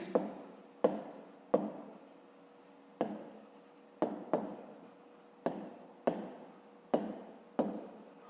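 Hand writing on paper with a pen, heard up close as a run of short scratchy strokes in quick bursts separated by brief pauses, fairly quiet and alone.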